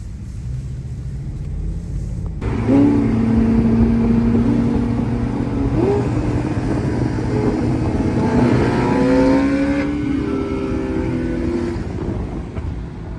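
A car engine roars under full throttle, rising in pitch as it accelerates hard from a brief quieter start, with a sustained loud rumble and repeated revving climbs through the gears.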